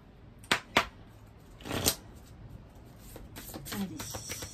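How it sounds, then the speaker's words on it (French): Oracle cards being shuffled by hand, a few short crisp riffling bursts near and fairly soft, followed by quieter rustling handling of the deck. "On va prendre une carte de l'oracle des sept énergies."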